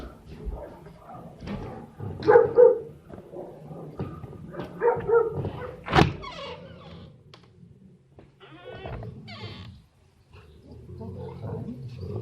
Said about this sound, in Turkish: Köpekler birbirine giriyor.